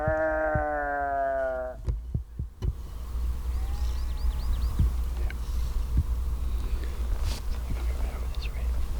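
Sheep bleat in a Hawaiian forest, answering a hunter's calls, with one loud, close, wavering bleat at the start followed by fainter distant replies, soft clicks and whispered talk.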